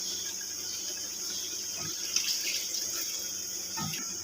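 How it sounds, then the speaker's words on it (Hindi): Water poured into a pot of cooking goat liver and lungs, a steady hiss of running liquid with faint clinks and bumps of the pot mixed in. "इसमें हम मज़ीद 1 कप पानी और डाल देंगे"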